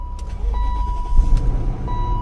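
Car engine idling close by, a low steady rumble with faint electronic chimes and clicks from the dashboard ringing over it, a couple of soft thumps along the way.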